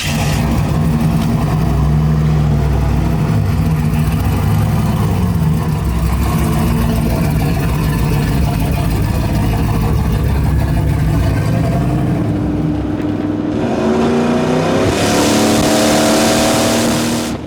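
A turbo LS-swapped 1969 Chevy C10 engine roars loudly as the truck accelerates hard, the revs climbing and shifting continuously, with no talk over it.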